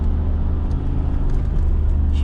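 A Mercedes G500 4x4² accelerates with a deep, steady engine rumble heard from inside the cabin, low and continuous, with faint road noise and a voice talking over it.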